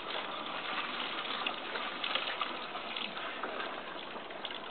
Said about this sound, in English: no funnel, so I'm just pouring it in.